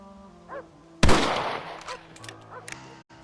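Rifle shot in the Red Dead Redemption video game: one loud, close crack with a short decaying tail, set among faint ambient tones and brief vocal sounds.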